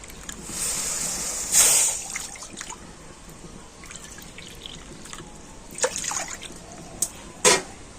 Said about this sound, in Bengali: একটা বাটি মেপে আমি দু বাটি জল দিয়ে দিচ্ছি